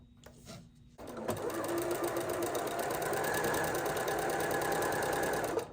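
A sewing machine fitted with a walking foot stitches a quilted strip for clothing embellishment, starting abruptly and then running in a steady, fast rhythmic whirr at close range.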